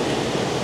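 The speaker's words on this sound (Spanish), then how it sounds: "el corriente de este río, Río La Plaza, es tan fuerte" A strong river current at Balneario La Plaza in the Dominican Republic rushes with a steady, dense roar of water, close and continuous with no voices.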